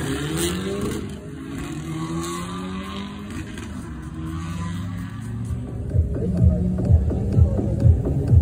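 A Volkswagen Golf R race car at Slovakia Ring accelerating with a rising, throbbing engine note among other track noise, growing louder with rhythmic pulses toward the end.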